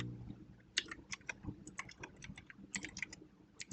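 Quiet, rapid typing of code on a computer keyboard during a Python tutorial, irregular clusters of light key clicks close by with no talking.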